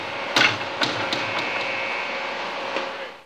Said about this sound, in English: The drop hammer with a projectile impact head is set at 100 pounds of weight